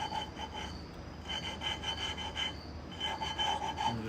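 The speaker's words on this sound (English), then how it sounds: "As you can hear a little abrasion." Abrasive compound rasping as a valve is lapped against an intake valve seat in a 2004 Honda TRX450R cylinder head, a soft gritty rubbing repeated in short back-and-forth strokes, close and fairly quiet.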